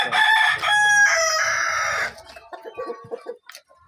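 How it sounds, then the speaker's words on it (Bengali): A local-breed rooster crows loudly at close range in a long two-part call, then gives a string of short, scattered clucks. "আমাদের কাছে নিওয়া ডাল মোরগ রয়েছে"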